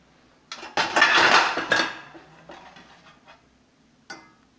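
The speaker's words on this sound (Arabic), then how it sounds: "وراح اسكب الشوربة العدس، شوفوا شكله شلون مع الرز" A ladle clinks against a pot and serving dish as lentil soup is spooned over rice, with a few close metallic knocks and scrapes followed by a faint later tap.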